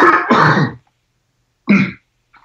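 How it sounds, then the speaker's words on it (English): A person coughs and clears their throat twice, a harsh burst followed by a pause and a shorter second cough, close to the microphone. "I'm going to have to cough again. I'm sorry."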